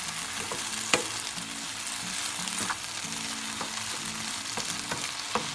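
Potatoes and eggs frying in a pan, a steady sizzle with periodic spatula scrapes and taps roughly every second, close and moderately quiet, no speech.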